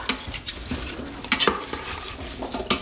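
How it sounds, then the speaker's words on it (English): Applesauce with apple cider is stirred inside an Instant Pot, close spoon scrapes and clinks against the metal pot in an irregular rhythm, with a few sharper knocks. "So let's just stir that up"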